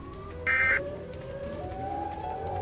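A Siren Head creature in the ARK video game emits a loud, wavering siren wail that rises and sweeps upward, with a brief sharp electronic squeal near the start over a murky game background.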